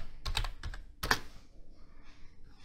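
A few close, crisp keystrokes on a computer keyboard while writing Python code, clustered early, then a quieter tail with light tapping.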